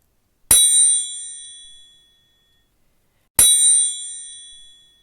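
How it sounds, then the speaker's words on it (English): Two bright metallic triangle strikes ring out alone, a few seconds apart. Each one rings clearly and then fades slowly. "I'm going to play my triangle"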